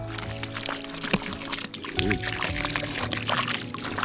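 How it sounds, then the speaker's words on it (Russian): Water pours and splashes steadily into rice terraces at Banaue, Philippines, fairly loud and continuous, under a low rumbling background. "Вода сливается прям в рисовые террасы."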